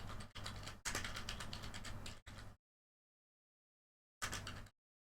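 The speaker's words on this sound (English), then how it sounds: "Oops, typing is no good." Rapid clatter of typing on a computer keyboard, close and fairly loud, in a few bursts broken by short gaps and then a longer silence before a final flurry of keystrokes.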